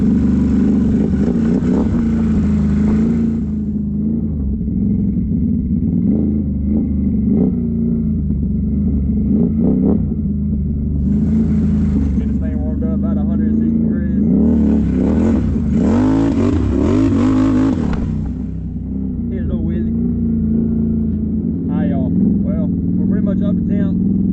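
Can-Am off-road vehicle engine warming up, a steady loud low rumble throughout with periodic revs rising and falling, and people talking over it at times.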